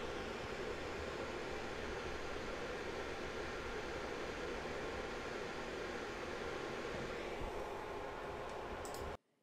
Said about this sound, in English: Recording with air conditioning hum.